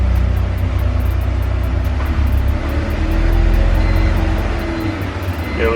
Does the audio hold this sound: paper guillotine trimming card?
no